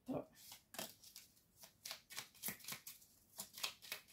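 Tarot cards being shuffled and drawn, with repeated crisp riffling swishes and soft card slaps in a steady rhythm close to the microphone, while a person speaks quietly over them.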